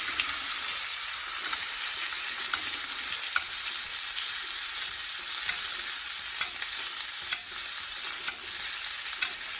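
A steak sizzles steadily in a hot pan with garlic and thyme while being basted, a continuous bright frying hiss with small scattered spoon clicks and pops, close and alone.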